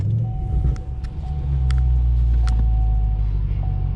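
The engine of a manual-transmission 2013 Chevy Camaro ZL1 muscle car starts, settling quickly into a loud, deep, steady idle rumble heard close up.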